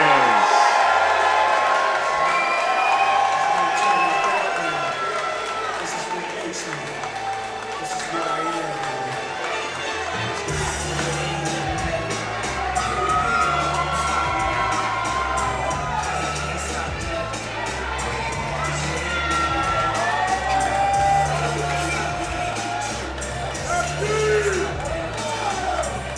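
A raucous crowd at a boxing match at Sony Hall cheers, shouts and whoops continuously, loud and dense, with an announcer's amplified voice and thumping music running beneath.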